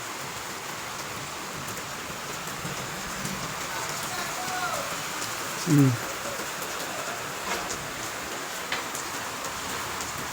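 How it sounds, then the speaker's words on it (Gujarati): The first rain of the season falls steadily in Junagadh, a uniform hiss of rain on surfaces with faint scattered drops. A brief, louder murmur of voice rises once midway. "કેવો હોય જોઈ લો તમે વરસાદ."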